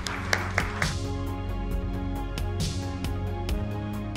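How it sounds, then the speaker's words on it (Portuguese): An audience at a cooking competition final gives the competitors a round of applause, scattered sharp claps rising over a steady musical backdrop, fairly faint and intermittent. "E eu gostaria de dar uma salva de palmas a todos os concorrentes aqui nessa tarde."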